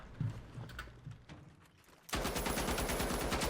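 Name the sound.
M60 machine gun firing in the video game The Finals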